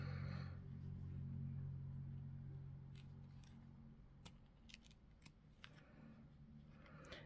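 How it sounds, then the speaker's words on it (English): Sharp scissors snipping threads for a shibori pendant, a few quiet crisp clicks in the latter half over a low, faint background hum. "always using a good sharp pair of scissors"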